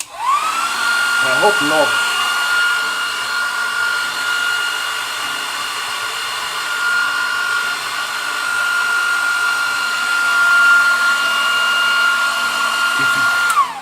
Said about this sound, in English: Let me hair dry it for a second.